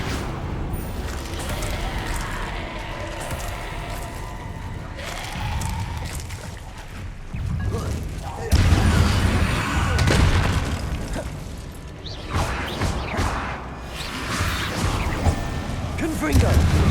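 Confringo spell blasts in Hogwarts Legacy, repeated booming bursts and whooshes with crashing impacts, mixed with a voice talking between them.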